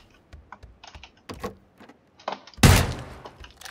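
Clicky computer keyboard typing during a live PC game session, a few scattered keystrokes and taps followed by one louder, sharper thump of a hand striking the keyboard's edge, close and with no talking.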